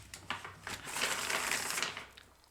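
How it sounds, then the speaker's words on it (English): Tarot cards being shuffled by hand, a short soft riffling and rustling flurry that swells in the middle and fades, close and quiet with no talk. "I feel the need to shuffle."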